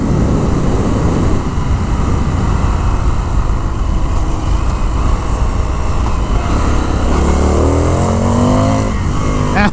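Indian FTR 1200 S motorcycle engine, a 2019 model, roaring loudly and continuously under hard acceleration, with rising engine tones toward the end and heavy wind rush, no talking.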